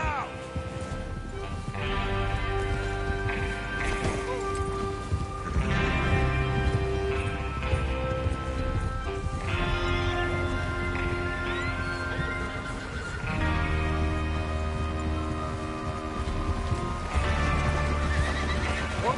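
Horses riding out in the Western video game Red Dead Redemption II, with hooves clip-clopping and neighing over a loud, continuous bed of orchestral game music, with voices talking at times.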